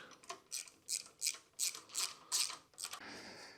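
A hand ratchet clicks in about eight quick, evenly spaced strokes, loosening bolts on a bracket holding a coil inside a Miller Onan 225NT welder, close and fairly quiet.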